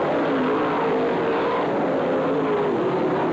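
Dirt track race cars roar around Brownstown Speedway during the 1995 Jackson 100, a loud, dense, continuous engine drone with shifting pitch as the pack passes, and no talking.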